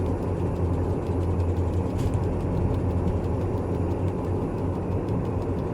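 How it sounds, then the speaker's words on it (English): Train engine in Train Simulator Classic on the Taurus Mountains route, a steady loud low diesel drone revving gently throughout, alone with no talk. "I like that sound of the engine there revving up"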